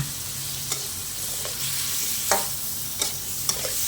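Sweet and sour shrimp being stir-fried in a pan, a steady close sizzle of hot oil with occasional sharp scrapes and clinks of a spatula against the pan, no talking.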